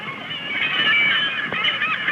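Gulls on a remote island with sea lions call in a dense, continuous flock chorus of overlapping harsh, honking cries, loud and steady throughout.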